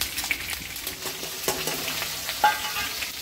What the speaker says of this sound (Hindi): फ्राई तो बढ़िया हो रहा है